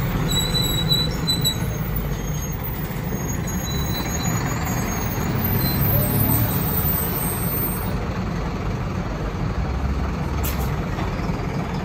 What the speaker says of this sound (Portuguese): Aí mais um carro da Planalto aqui iniciando o seu itinerário.